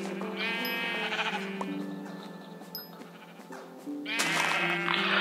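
Sheep bleating in the modded Minecraft game Tekkit, a crowd of overlapping game-sound bleats that comes in repeated bursts, loud and clear with no talking over it.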